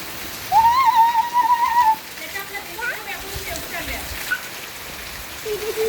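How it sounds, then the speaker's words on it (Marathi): Steady monsoon rain patters on surfaces in a constant wash, while a high whistling tone and a voice rise over it nearby. "पाऊस आला"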